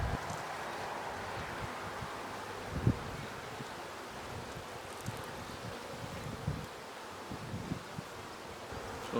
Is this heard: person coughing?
no